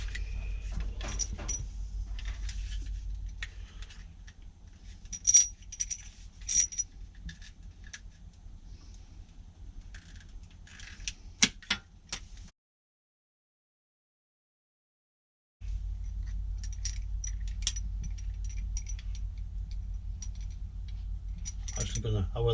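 Metal shower fittings on a narrowboat are undone, giving scattered close clinks, taps and small metallic scrapes over a low steady hum, with a few seconds of silence midway and no talk.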